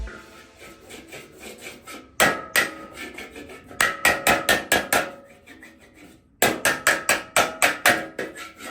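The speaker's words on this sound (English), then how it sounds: "Just hammering the affected area." Hammer strikes on a metal panel backed by a dolly, knocking out a dent, in bursts of rapid sharp blows separated by brief pauses, close and loud.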